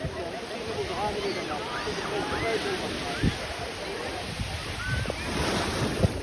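Sea waves on a beach shore, a steady rushing wash with occasional soft breaking thumps, mixed with wind buffeting the microphone and distant voices of a crowded beach.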